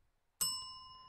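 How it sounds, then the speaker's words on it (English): A single bright bell ding rings out clearly after a moment of silence, its pure tone sustaining and slowly fading, used as a game-show style cue. "You're gonna hear a bell that sounds like this"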